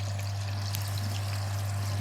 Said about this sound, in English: Now we've got a drip here somewhere